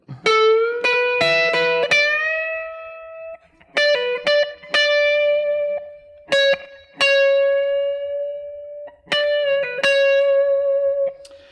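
Les Paul electric guitar plays a short rock lick with string bends, a release bend and pull-offs, ending on sustained notes with gentle vibrato, loud and clean with no talking.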